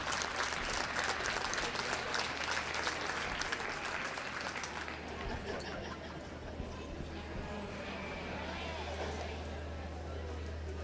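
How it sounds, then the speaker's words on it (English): Applause at a youth livestock show lamb judging, a crowd clapping across the arena that swells early then thins, with a low steady hum and talk running underneath. "Well, let's give this young lady a round of applause."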